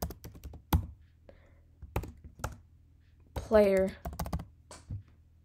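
Close-up clicking of computer keyboard keys comes in quick bursts and single taps, mixed with a person speaking over a low electrical hum.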